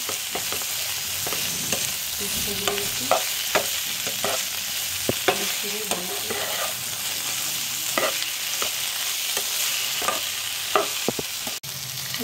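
Ginger-garlic paste and turmeric powder are stirred into a hot frying pan: a steady close sizzle with repeated scraping spatula strokes at an uneven rhythm throughout, with no voices.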